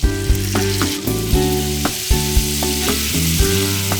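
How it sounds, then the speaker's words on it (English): White wine poured into a hot pan to deglaze chicken cooked with garlic and oregano, bursting into a loud, steady sizzle with a few sharp spikes, while tonal music plays underneath. "Then I'm going to deglaze the pan with white wine."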